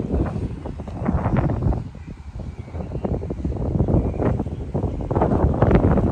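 Strong wind on Tung Lung Chau island rumbles and buffets the microphone in a continuous heavy roar that pulses with each gust, with no voices.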